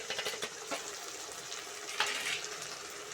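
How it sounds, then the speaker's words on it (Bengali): Water is poured into a hot pan of fried eggplant for spicy eggplant curry, giving a continuous close sizzling hiss with a brief splashing surge near the middle. "থালাটা ধুয়ে একটু জল দিয়ে দিলাম"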